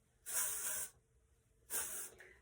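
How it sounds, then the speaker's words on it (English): Amika Perk Up dry shampoo sprays through hair in two short close hissing bursts separated by a brief pause, soft and alone. "So we're gonna use Amika-Perk UP and spray it all throughout your"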